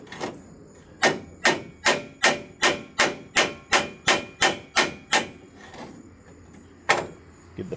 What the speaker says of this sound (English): Get the flat part of the hammer right here.